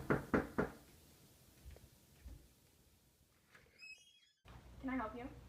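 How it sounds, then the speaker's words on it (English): A knock at a door in a dramatized story: three sharp, closely spaced raps sound close and clear at the start, followed by a quiet room and then a brief voice. "3 days later, there's a knock at the door."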